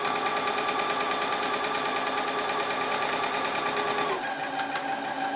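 A sewing machine runs steadily and close by, stitching round the beak and wattle of a quirky fabric chicken toy, its fast mechanical whirr continuous for about four seconds before it slows and stops.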